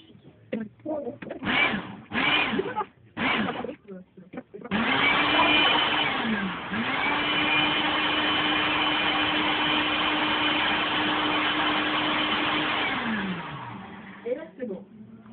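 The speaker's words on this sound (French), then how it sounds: "On va faire la purée avec la mangue et le sucre. Alors, il y a 30 mg de sucre. Voilà, on met tout dans le mixeur" An electric kitchen blender purees mango with sugar, whirring loudly and steadily for about eight seconds after a few short pulses, with its motor pitch dipping and recovering before spinning down; a person speaks briefly before and after.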